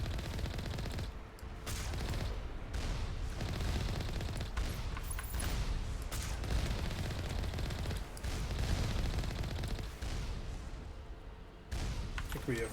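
Sustained rapid gunfire from turrets in the Mass Effect video game, a dense, continuous loud barrage with brief dips, with faint speech underneath.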